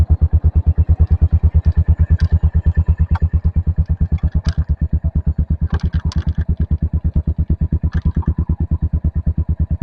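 A motorcycle engine idles steadily after exhaust changes and air-fuel ratio tuning at the idle mixture screw, with a loud, even low-pitched pulsing throb and light mechanical clatter throughout, close by and without talk.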